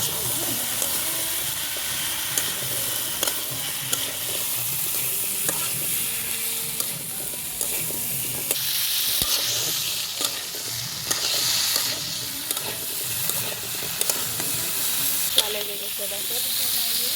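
Amaranth leaves stirred into a fish curry in a pan, with a steady hissing sizzle and repeated scrapes and knocks of a spoon against the pan.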